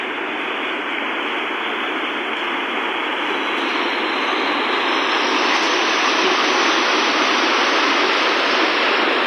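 Floodwater rushing near a bridge on Madras Road during serious flooding, a loud, steady broadband roar that holds continuously throughout with no pauses and no voices.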